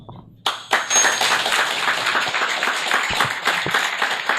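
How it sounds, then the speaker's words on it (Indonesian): Audience applause at a motivational seminar in Indonesia, starting abruptly and continuing as dense, steady clapping from a crowd, fairly loud and close. "Sebentar Bapak Ibu, Anda tepuk tangan apa?"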